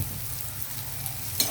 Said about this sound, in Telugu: ఇదిగో ఉల్లిపాయలు కొంచెం వేగాయి